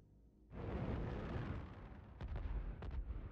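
Heavy ship weapons fire in the Star Citizen video game: a sudden loud roaring blast, followed by several sharp, echoing booms in quick succession, with no talk over it.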